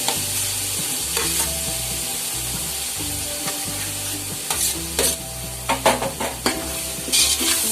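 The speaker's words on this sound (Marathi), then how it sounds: "हा मसाला परतून झाला की त्यात आपण कांदे टाकणार, चिरून ठेवलेले कांदे आहेत." About ten large chopped onions, roughly a kilo, fry in masala for a big batch of chicken biryani, sizzling steadily while a spoon scrapes and stirs the pan, louder toward the end.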